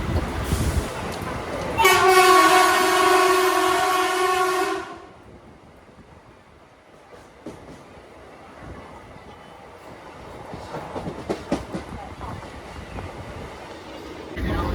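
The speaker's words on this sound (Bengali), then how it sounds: "আমাদের ট্রেন এখন পার করছে বেলুড়, গতি কিন্তু 90 km/h" The 13427 Howrah–Sahibganj Intercity passes Belur at about 90 km/h. A loud, steady horn blast sounds for roughly three seconds, followed by rhythmic clattering of wheels over the rails with occasional sharp clacks.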